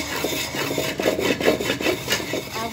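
Cooking ingredients being ground by hand for a rice and chicken dish make a loud, close, gritty rubbing and scraping, repeated in quick uneven strokes, with no talking.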